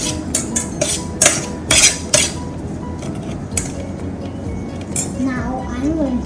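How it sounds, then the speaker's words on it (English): Utensil stirring a salad seasoned with pepper and salt in a bowl, a run of clinks and scrapes close up, with a voice talking under it. "I'm going to stir it together"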